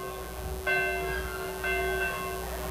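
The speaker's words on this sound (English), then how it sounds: "They ring a bell when they score a point." A bell rung at a high school football game when the team scores, two clear metallic strikes with ringing, sustained tones that decay slowly, heard from a distance over faint crowd ambience.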